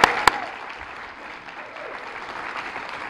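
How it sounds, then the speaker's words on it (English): An audience at a school awards ceremony gives steady, moderate applause that sounds somewhat distant. A couple of sharper claps stand out at the start. "Can you give them all an applause?"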